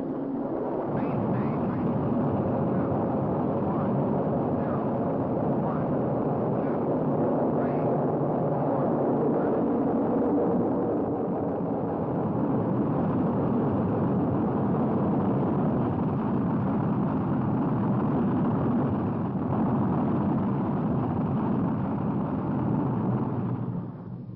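Missile launch just after ignition: a loud, continuous roar of rocket thrust that holds steady and fills the whole stretch without letup.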